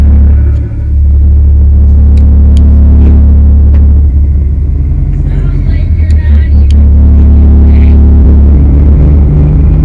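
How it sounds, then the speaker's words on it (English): A loud, deep engine rumble idles steadily close by, with a low throbbing drone and a slight rise in revs midway. "I like hearing the sound of the truck"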